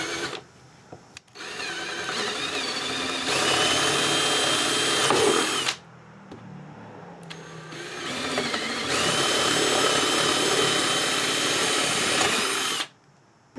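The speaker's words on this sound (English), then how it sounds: "First I drill holes to create a guide, and then I go in with a saw from the other side." A power drill whines loudly in two long bursts, separated by a short pause, the motor pitch shifting slightly as it bores guide holes for a miniature diorama piece.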